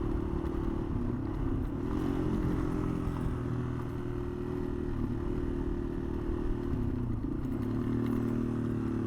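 A Yamaha XT225 dual-sport motorcycle, re-geared one tooth lower than stock, rides along with a steady, fairly quiet engine drone and faint rattles and clatter from the bike.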